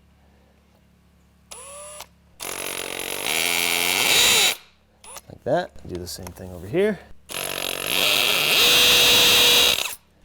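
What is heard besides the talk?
hammer drill with masonry bit drilling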